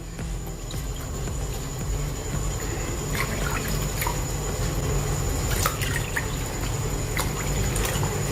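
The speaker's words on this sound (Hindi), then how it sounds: "अभी पानी डालेंगे, जो नॉर्मल पानी है वही हम डाल रहे हैं इसमें।" Plain water trickles and drips steadily into a bowl of dahi vada batter, a continuous close splashing with occasional brighter plinks.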